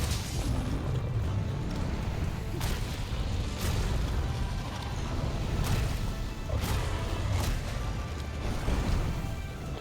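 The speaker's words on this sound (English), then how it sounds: "This is a close range explosion." A close-range explosion in Monster Hunter World during a hammer fight: a loud, dense rumbling roar with several sharp crashing bursts layered over sustained low-end game noise, with no talking.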